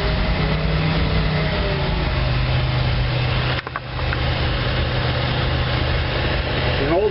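A 1986 GMC Blue Bird bus with a rebuilt carburetor idles roughly after a cold start, with a steady low rumbling drone close by and one brief dip partway through. Someone talks over it.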